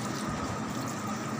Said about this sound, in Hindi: बीस मिनट बाद करेलों को वॉश कर लें अच्छे से